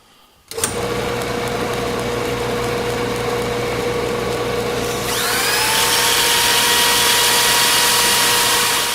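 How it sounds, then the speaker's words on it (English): A power drill whirs steadily after a click, spinning a homemade go-kart part chucked in it, its motor pitch rising partway through as it spins faster, loud and close with no talk. "chuck it up in my drill, and then turn it on here"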